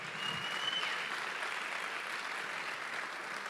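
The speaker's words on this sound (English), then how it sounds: "Huge round of applause" Audience applause at Bitcoin Atlantis 2024, a conference in Madeira: a steady, dense wash of clapping from a large crowd that holds at an even level throughout.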